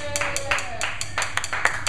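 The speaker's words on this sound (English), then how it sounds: "let's give a round of applause for Mick" An open mic audience claps for a performer, scattered hand claps under a faint tone, with voices murmuring over the applause.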